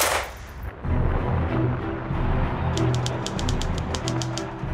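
Rapid machine gun bursts from a WWII battlefield around Dunkirk, a quick rattling string of shots in the distance over a steady rumbling background.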